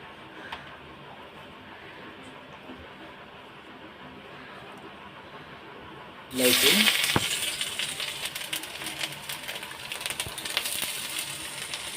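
Capsicum and a little onion go into hot oil in a kadai: a quiet room tone gives way midway to a sudden loud sizzle, which keeps crackling steadily afterward.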